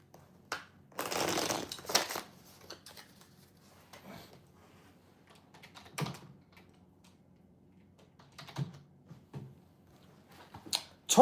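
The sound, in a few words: shuffling a deck of cards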